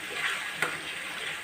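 Bottle gourd kofta mixture frying in a pan gives a steady, close sizzling hiss, with one brief tick partway through.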